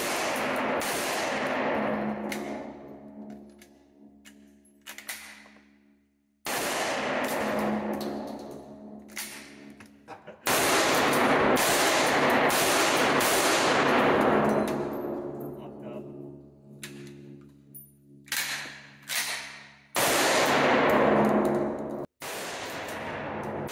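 A Turkish pump-action shotgun fired during a torture test: several loud, sharp blasts, each trailing into a long echoing decay, with talk in the gaps between shots.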